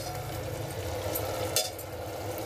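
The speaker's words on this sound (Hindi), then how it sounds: "तो देखिए हमारा मसाला अच्छे से भुन चुका है।" Masala roasting in a pan while being cooked for a lotus stem dish, a continuous soft sizzle with faint stirring and one brief scrape.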